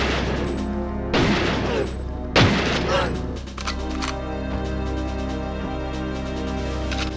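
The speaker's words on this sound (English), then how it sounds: "So here's the rocket launcher." A rocket launcher fires in the video game GoldenEye 007: two loud, booming blasts a little over a second apart, each trailing off, over a steady hum of game background sound.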